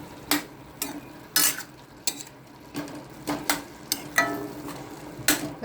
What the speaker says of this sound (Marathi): असं चाळायचं.